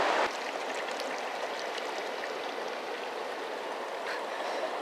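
A large river in the Sierra foothills rushes steadily nearby, a continuous broadband wash of flowing water heard alone without any voices.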